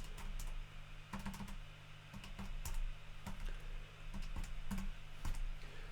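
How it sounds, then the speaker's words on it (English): Keys on a calculator are tapped in short irregular bursts while numbers are entered, small clicky presses close by over a steady low electrical hum. "Type that into our calculator."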